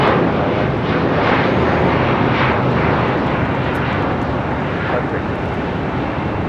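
A jet airliner roars loudly and steadily at LAX airport, a broad sustained engine rumble close at hand.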